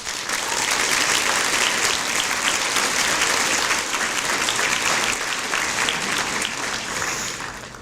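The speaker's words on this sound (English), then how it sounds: "Please give them a round of applause." Sustained applause from a graduation audience at Richmond Academy's 2015 commencement, a dense, steady wash of many hands clapping that holds evenly loud for the whole stretch before easing slightly at the end.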